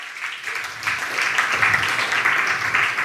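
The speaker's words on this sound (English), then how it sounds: "they deserve a round of applause" Steady applause from a crowd at a church service, a continuous wash of clapping at moderate level with no voices standing out.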